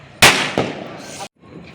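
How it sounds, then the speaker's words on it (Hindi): A firecracker bursts close by with a sharp, loud crack, followed by a quieter second pop and a lingering crackle before cutting off, with voices faintly present around it. "हमें फेंक दिया यहीं पे पटाखा।"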